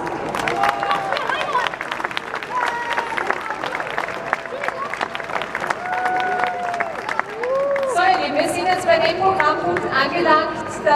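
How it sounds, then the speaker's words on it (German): Audience at an outdoor rally in Graz applauding after an art award and auction, scattered clapping with cheering and chatter, while a voice speaks over it and the crowd noise swells near the end. "Vielen, vielen Dank, Applaus."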